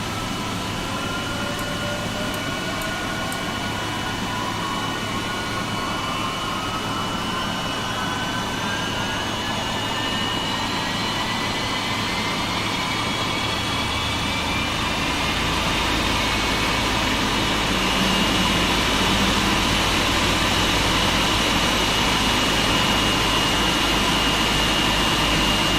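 Engine 2 of a Boeing 777 starts up in the X-Plane 11 flight simulator: a steady airy hum with rising whining tones that climb gradually, joined midway by a deeper rumble as the engine spools up, loud and close.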